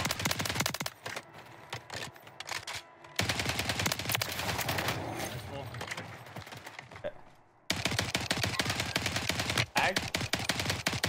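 Rapid bursts of gunfire in a shooter video game, loud and repeated in quick trains with a brief lull in the middle, alongside faint game effects and no talk.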